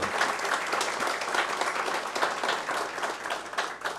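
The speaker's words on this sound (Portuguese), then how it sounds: "uma salva de palmas para os vereadores aqui da Câmara Municipal" Steady applause from an audience fills a municipal council chamber during a formal honorary session, dense overlapping claps continuing at an even level throughout.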